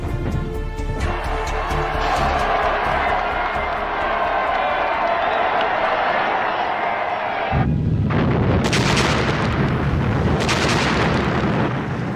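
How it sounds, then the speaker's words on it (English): Gun salvos and fireworks boom over Moscow's Red Square in a celebration of Red Army victories in 1943, a dense continuous rumble of blasts that shifts partway through into sharper, brighter bursts and crackles. "Stalin ordered 12 124-gun salvos and a barrage of fireworks in Moscow's Red Square."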